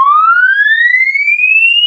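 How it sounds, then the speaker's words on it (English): A smartphone's emergency alarm sounding a loud, pure electronic siren tone that rises steadily in pitch in one continuous sweep, close and alone with no talking. "emergency alarm."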